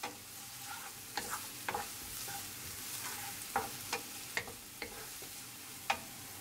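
Fried tofu stir-fried in a pan for a plant-based zucchini pasta, with a steady sizzle under sharp, scattered utensil scrapes and taps against the pan at an irregular rhythm, close and moderately loud, no talking.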